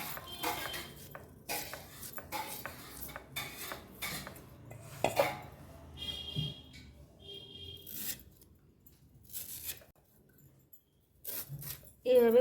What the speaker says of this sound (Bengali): এরকম ছোটো ছোটো পাতলা পাতলা করে কুচি করতে হবে